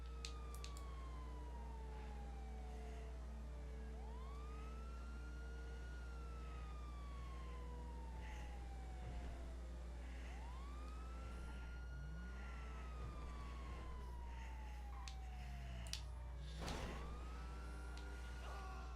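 A police siren in the video game GTA V wails in long rising and falling sweeps over a constant low engine drone, repeating several times at moderate loudness with no speech.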